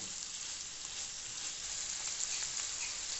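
Minced chicken sizzling and crackling steadily in a hot pan, a constant close-up hiss with occasional pops, no talking.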